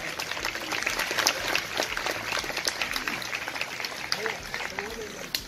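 Audience applause at a public gathering in an eco garden, a dense, steady crackle of clapping that fills the whole stretch, with voices mixed in underneath.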